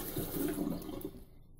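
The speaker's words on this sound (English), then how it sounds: "Go ahead and turn the water off and hold this." Water runs steadily from a kitchen tap for a moment, then stops as it is shut off, leaving near silence.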